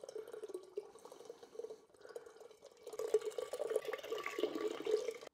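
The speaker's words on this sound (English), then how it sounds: "Take your 8 bottles and just start pouring them right in the big glass." Lemonade and other drinks pour from eight bottles into one big glass. The liquid splashes and trickles steadily up close, getting louder and fuller partway through, with no talking.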